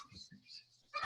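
A dog agitated at the sight of a cat through a window gives short whimpering yips and a sharper burst at the end, fairly close and brief.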